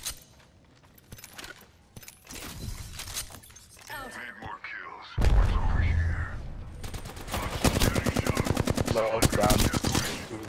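Automatic rifle fire in the battle-royale game Apex Legends, with rapid bursts of shots at close range that build into dense sustained volleys, heard alongside a player's voice.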